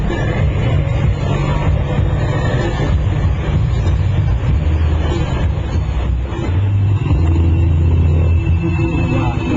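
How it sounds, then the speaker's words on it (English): Riding in the back of a Jeepney brings a loud, steady engine roar and road rumble blended with constant wind buffeting, continuous and close throughout. "are now in the back of a Jeepney"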